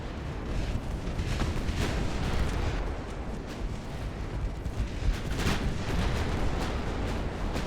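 Relentless naval secondary gunfire from a battleship in Ultimate Admiral: Dreadnoughts, booming and crackling without pause in dense overlapping volleys, loud and continuous throughout.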